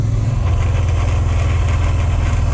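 A 1998 Subaru Impreza engine with a manual swap hums and rumbles steadily with a pulsing low throb after the throttle eases off, making an unidentified noise, close and continuous, with no talking.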